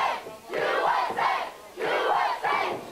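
Spectators at an NWA World Championship professional wrestling match roar and cheer in surging waves, a dense arena crowd swelling loud in two long bursts with brief dips between.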